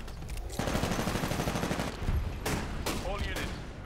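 Rapid automatic gunfire from the amped CAR submachine gun in Titanfall, sustained bursts with brief pauses, loud and close amid game battle noise.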